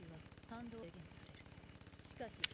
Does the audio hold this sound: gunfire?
yes